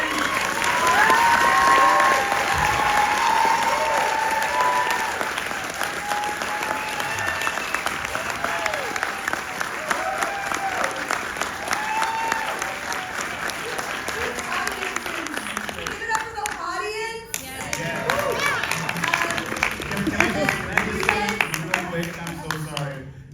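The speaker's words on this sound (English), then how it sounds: "we're going to give these guys a huge round of applause" A theatre audience gives a film cast a long, sustained round of applause at a Q&A screening, with loud clapping throughout, a brief dip partway, and voices talking over it.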